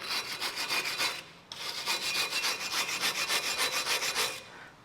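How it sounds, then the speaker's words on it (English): Wire brush scrubbing rust and brake dust off a front brake bracket on an MG3, rapid back-and-forth scratchy strokes up close, with one short break before the brushing continues. "I'm just getting a wire brush and just cleaning up any rust or debris on here."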